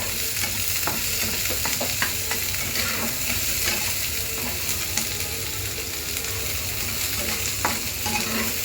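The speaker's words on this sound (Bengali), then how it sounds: "পেঁয়াজটা এখন ভালোভাবে ভেজে নেব।" Onions hiss as they fry in oil for masala Maggi while a spatula stirs the pan, scraping and clicking in quick, irregular strokes. The sizzle stays close and steady under the stirring, with no speech.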